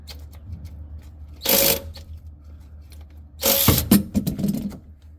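Cheap cordless ratchet on a car oil filter, with two short whirring bursts of the motor, each about half a second to a second long, separated by quiet pauses, close by.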